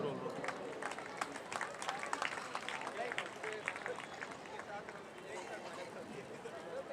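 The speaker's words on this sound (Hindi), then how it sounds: "जोरदार तालियां" Audience clapping at a Hindi comedy poetry gathering in Kalamboli, Kharghar, brisk scattered claps in a busy burst that thins out toward the end, with crowd murmur and voices underneath.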